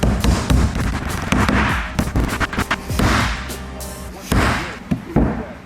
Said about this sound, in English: I'm just gonna put this thing on a table and bang it until it gets straight. With a rubber maul.